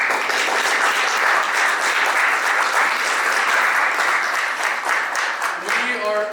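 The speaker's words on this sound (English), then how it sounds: "can we get a round of applause with the kids from Ikra School again?" A crowd at a university conference applauds the kids from Ikra School, a dense, steady clapping that lasts several seconds, with a voice emerging near the end.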